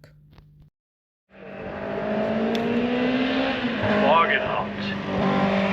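A pair of classic Alfa Mark 7 racing cars at the Shelsley Walsh hill climb roar loudly, with a sustained engine rising and shifting pitch, while a commentator talks over it.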